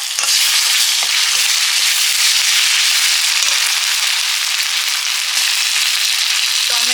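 Garlic and ginger frying in hot oil in a pan, a loud, dense, continuous sizzle and crackle close up, with a few soft stirring knocks.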